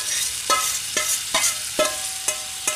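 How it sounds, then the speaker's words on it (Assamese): Yogurt-marinated spice masala frying in a pan for chicken butter masala, a loud steady sizzle punctuated by about six regular scraping strokes of a spoon stirring, close up and without talk. "ঢালি দিম আৰু অলপ সময় ভাজি ল'ম।"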